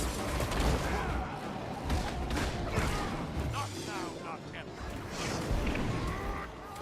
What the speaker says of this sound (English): Be ready to give the signal and return fire once the cannons are loaded.